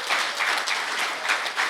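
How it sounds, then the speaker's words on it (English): An audience applauds at the closing ceremony of the EU-GIZ Tekki-Fii project, a brief burst of dense, steady clapping at close range with no pause. "please give him a round of applause once again."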